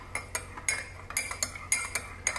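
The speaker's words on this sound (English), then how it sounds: "let's give it a stir" A metal spoon stirs French vanilla Coffee Mate into a cup of tea, making a quick run of bright, close clinks against the cup in an irregular rhythm, with no talking.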